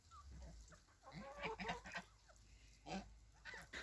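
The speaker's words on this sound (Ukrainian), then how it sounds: "Повиходили на сонечку наші гуси." Geese honk and cackle in short, scattered bursts at a fair distance, with chickens clucking faintly in a quiet village yard in Prykarpattia.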